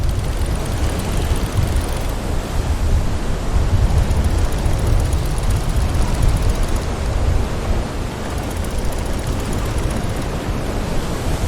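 Strong storm wind roaring over the open sea around a sailboat in the video game Will Follow the Light, a dense, steady, loud rush that fills the whole stretch with no voices.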